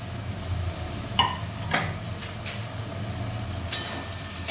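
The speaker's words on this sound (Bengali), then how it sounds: "মাছের মাথাগুলো দিয়ে দিলাম" Hilsa fish heads frying in a pan give a steady low sizzle, broken by a few sharp clinks and scrapes of a utensil stirring, with no one talking.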